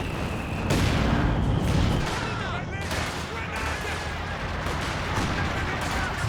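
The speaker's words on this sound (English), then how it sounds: "Oh, big stun grenades." Stun grenades burst during a battle in the video game Company of Heroes 2, set within a loud, dense wash of continuous gunfire and explosions that rumbles without clear separate blasts for several seconds.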